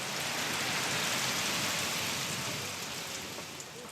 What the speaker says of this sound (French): Et depuis près d'un mois, la pluie tombe sans discontinuer.